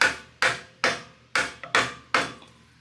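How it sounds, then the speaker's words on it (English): Six hard knocks from a rubber mallet on the metal caster of a four-post car lift, struck at an irregular pace with short ringing decays, close and loud, no talking. "I found my little hammer here. It's just a rubber mallet type thing."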